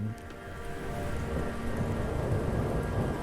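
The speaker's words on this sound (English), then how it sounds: "That's a lot of rain coming down," Heavy rain and thunder from a video game form a dense, continuous roar of downpour over a low rumbling undertone, steady and fairly loud, with no speech.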